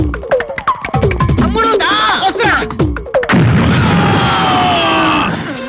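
A bomb goes off in a Telugu film scene with a sudden loud blast and a long rumbling roar that follows it. Voices are heard just before the explosion.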